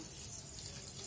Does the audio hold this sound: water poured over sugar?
yes